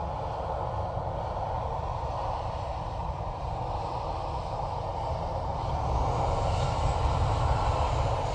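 Airliner jet engines roar steadily at Manchester Airport after a cancelled takeoff, a broad, constant rumble that swells slightly toward the end, heard from a distance.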